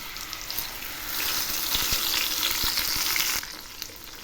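Meat dropped into hot oil with cumin seeds in a pan, giving a steady loud sizzle with scraping stirs, rising as the meat goes in and easing near the end.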